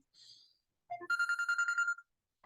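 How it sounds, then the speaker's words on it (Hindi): A mobile phone rings with an incoming call during a science lesson: a short, bright electronic melody of rapid repeated tones lasting about a second, close by and clear, with quieter tones just before it. "एक मिनट रुक जाओ, कॉल आ रहा है."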